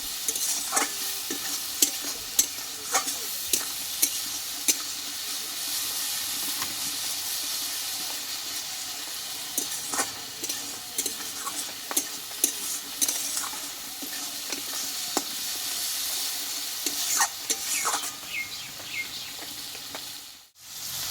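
Ground spice masala with a little water sizzling and hissing in a pan while a utensil stirs it, giving frequent sharp scrapes and taps over a steady frying hiss, for a vegetarian mung dal dish.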